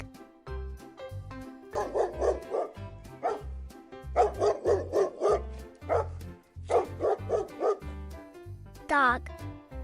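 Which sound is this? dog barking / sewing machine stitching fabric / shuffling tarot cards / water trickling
dog barking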